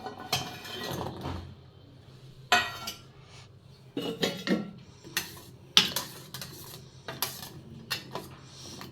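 Gulab jamun are lowered into cooled sugar syrup in a pan, with soft, scattered clinks of a spoon against metal at irregular intervals and no talking.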